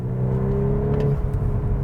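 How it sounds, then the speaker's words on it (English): Volkswagen Mk8 Golf R engine pulling hard after a downshift, a loud, close, steady droning hum with a rising tone, no talk over it. "And then I'll downshift a little bit and give it a little bit more power"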